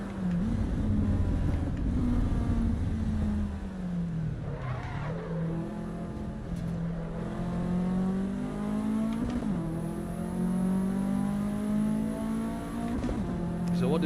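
Race car in Assetto Corsa Evo, engine revving hard and dropping through downshifts with short tire squeals, then climbing again through upshifts; loud and continuous, with faint talk at times.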